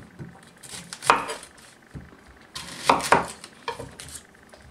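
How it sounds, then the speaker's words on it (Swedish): A knife chopping yellow onion on a cutting board, heard as a few distinct, fairly loud clusters of quick cuts separated by pauses, with no talking. "gul löken ska vi hacka jättefint."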